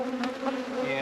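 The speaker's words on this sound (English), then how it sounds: "Nurse bees will all come right back up" Honey bees buzz steadily on a hive frame of brood, a close, continuous drone that hums without pause and swells slightly partway through.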